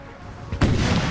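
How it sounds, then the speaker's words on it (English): In the Napoleon Total War 3 video game, a howitzer fires. A quiet battlefield bed breaks into one loud, sudden artillery boom that rolls on with rumbling noise. "So there's a lot of shots coming in"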